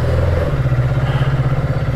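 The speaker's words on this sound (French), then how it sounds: "On va faire chauffer un peu le moteur." A QJ Motor SRK 700 motorcycle idles and is revved to warm up, a loud, close, steady engine drone with a pulsing, slightly rising pitch and no talking.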